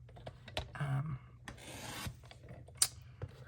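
A printed photo is trimmed on a cutting board, producing faint close scraping and rubbing strokes with a few small taps and clicks in the quiet.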